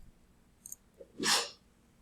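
A single sharp sneeze, loud and close, with a quick intake of breath just before it, in an otherwise quiet room.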